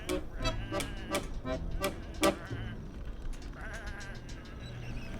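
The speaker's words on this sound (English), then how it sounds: "Come on, these are just sheep." Sheep bleating in the video game Whateverland, a run of repeated short bleats in quick succession, one louder call near the middle, over a steady low background hum.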